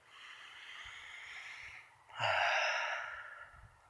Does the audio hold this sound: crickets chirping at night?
no